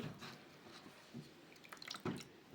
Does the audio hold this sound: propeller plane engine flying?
no